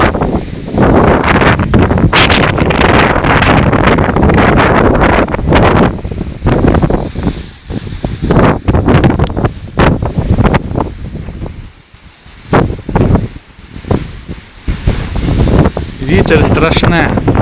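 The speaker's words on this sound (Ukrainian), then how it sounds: "Вітер страшне." Hurricane-strength wind buffets the microphone and shakes apple trees, roaring in loud gusts with rustling leaves, easing briefly before surging again.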